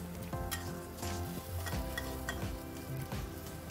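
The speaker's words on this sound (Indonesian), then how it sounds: "Sekarang kita aduk-aduk" Kikil (beef skin) being stirred in a pan while it cooks, with a steady sizzle and repeated scraping stir strokes close up, and no talking.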